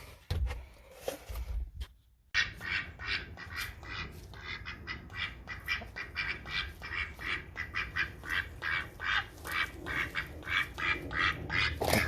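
A duck quacks over and over in a steady, rapid series of squawky calls, fairly close but not loud, with no talking.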